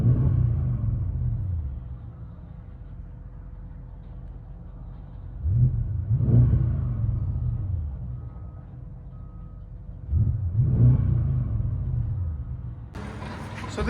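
A 2013 Audi S6 with a 4.0L twin-turbo V8 and muffler delete rumbles deeply at a steady idle, heard from inside the car, with two brief rev surges swelling the drone before it settles again.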